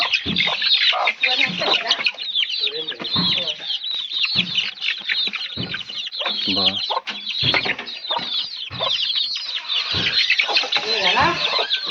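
Village chickens in a Konkan coop cluck and squawk continuously and loudly at close range as they are let out in the morning, with a person's voice occasionally heard among them.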